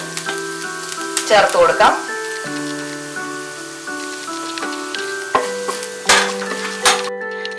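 Urad dal and split dal frying in hot oil in a pan, a steady crackling sizzle with brief stirring bursts, under a voice speaking and soft tonal background music.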